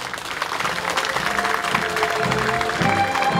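An outdoor audience at a counter-terrorism drill in Geoje claps together, a steady patter of applause lasting a few seconds.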